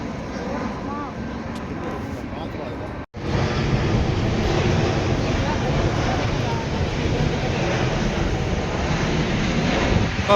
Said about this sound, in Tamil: இல்லை, அதுக்குள்ளே இன்னொரு ஃப்ளைட்டு.